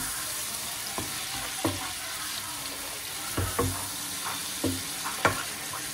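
Beef browns in a pan as its fat renders out, with a steady sizzling hiss under intermittent scraping and stirring knocks, close and fairly loud.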